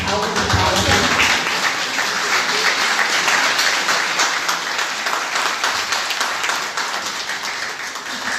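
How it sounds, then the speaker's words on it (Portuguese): Audience applause welcomes a guest at an event on workplace inclusion for people with disabilities. The dense, steady clapping fills the room for about eight seconds, with a voice briefly audible at the start. "seja muito bem-vindo, uma salva de palmas"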